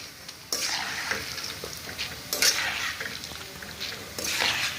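Flattened rice (poha) fries in oil while being stirred, making surging bursts of crisp sizzling and rustling that swell and fade between quieter moments.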